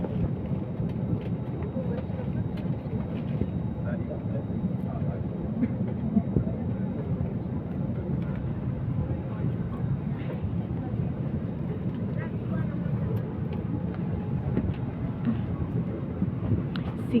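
Steady airplane cabin noise, a constant low engine roar and airflow hum with no change in level, filling the whole stretch with no talk over it.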